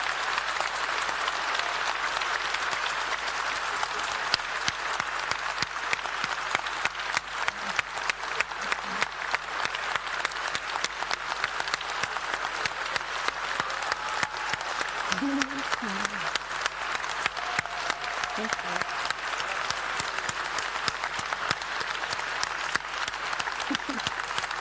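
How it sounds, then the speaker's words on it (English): Sustained applause from a lecture audience at the close of an evening talk in Vienna, a dense even wash of clapping filling the hall for over twenty seconds, with a few faint voices underneath. "please give a warm farewell applause to Catherine Belton."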